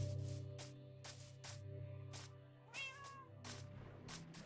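A cat meows repeatedly in short, clear calls over a steady droning game soundtrack, with brief pauses between cries.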